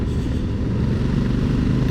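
A 2021 Honda Africa Twin Adventure Sports engine drones steadily while cruising after its automatic gearbox shifts into fifth, a loud, continuous low rumble with wind noise.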